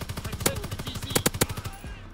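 Rapid automatic weapon fire in the video game Call of Duty WW2 comes in quick, sharp bursts of closely spaced shots over a steady rumble, with a few louder cracks standing out.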